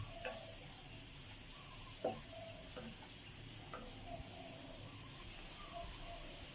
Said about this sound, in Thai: เอาไปผัดให้หอมก่อนนะครับ